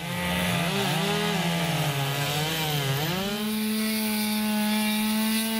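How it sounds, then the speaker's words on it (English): A chainsaw carving wood at a chainsaw carving competition in Reedsport, its engine roaring steadily up close, pitch dipping and rising as the blade bites in, then holding a high whine. "the 13th annual chainsaw carving competition"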